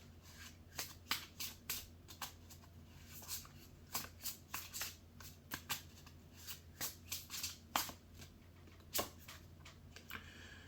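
Tarot cards being shuffled by hand close up, a series of crisp riffling bursts and soft slaps in an irregular rhythm over a quiet background hum, with no talk.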